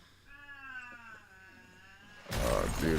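A cat lets out a long, drawn-out wavering meow close by, followed by a sudden burst of louder, harsh noise near the end.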